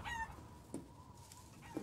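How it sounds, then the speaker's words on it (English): Chickens cluck in the Resident Evil Village video game: a few short, faint clucks spaced across a quiet in-game background. "I hear the chickens."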